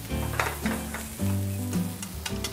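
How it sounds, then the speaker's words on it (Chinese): Pickled mustard greens (mei gan cai) being stir-fried in a hot wok, giving a close, steady sizzle with scraping and stirring bursts, and no talking. "梅干菜也要稍微炒一下了"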